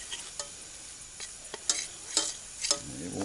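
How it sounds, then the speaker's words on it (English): Brown gravy of flour and grease cooking in a pan, with quiet frying sizzle and several sharp scraping stirs of the utensil against the pan, close and without talk. "we can try to make up some brown gravy here and get it started"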